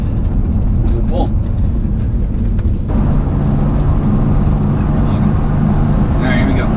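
A 2000 Audi B5 S4 with a 3-bar map upgrade and all-wheel drive pulls hard in third gear, a loud, close, sustained engine roar that rises as it accelerates, with someone talking over it.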